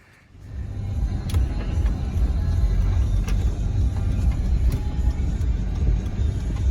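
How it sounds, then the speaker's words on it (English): A farm truck pulls away and drives out through a gate, its engine rumble rising quickly from quiet and holding as a steady, close, loud drone for several seconds with no talk. "I'm gonna hop in the truck, out the gate"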